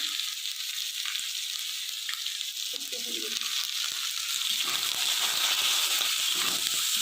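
Steady, loud sizzling of potato and eggplant frying in a pan with cumin throughout, with faint voices and occasional stirring underneath.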